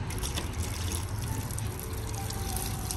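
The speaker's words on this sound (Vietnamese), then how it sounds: "Bây giờ mình xả nước này." A water hose rinses a car after a snow-foam wash with Bowden's Own products, giving a steady, close hiss of spraying and splashing water with no speech.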